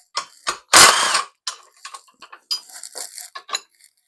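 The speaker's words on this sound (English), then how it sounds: "I'm using like an impact gun, but you wouldn't need to, I just makes it quicker" An impact gun fitted with chrome sockets zips seat bolts loose in a Mercedes Sprinter van, one loud rattling burst standing out among shorter clicks and mechanical taps, all close by.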